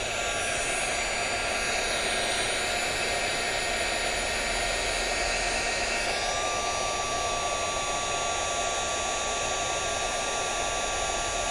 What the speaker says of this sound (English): let's go back to our heat gun. Make sure it's on hot.